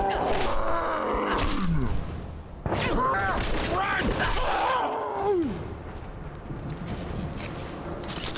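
Gunfire from enemies in Fallout 4 comes in bursts and booms amid combat noise, with grunts and groaning vocal sounds mixed in; loud and close, with a short lull midway.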